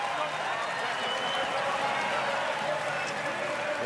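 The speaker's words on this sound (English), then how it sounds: "There's nothing like that crowd getting involved when you knock down a couple of shots." Basketball crowd in Perth Arena at a Perth Wildcats versus Sydney Kings game, a dense, steady roar of cheering and clapping that stays loud without letup.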